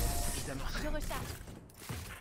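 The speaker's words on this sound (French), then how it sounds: "Je recharge." A weapon reloads in the shooter game Valorant: quick mechanical clicks and clacks of the magazine being swapped, close and crisp over a steady game-noise bed.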